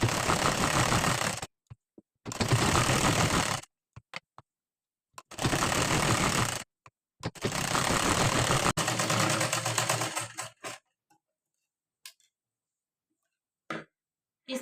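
An electric sewing machine stitches the neckline of a blouse in several loud, steady bursts of rapid running stitches separated by brief pauses, then stops, leaving a few faint clicks and taps.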